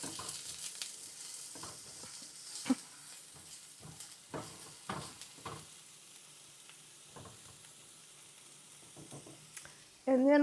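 Onions softening in a skillet for taco tortilla cups sizzle and crackle steadily at moderate volume, with occasional stirring scrapes and a louder clatter at the very end.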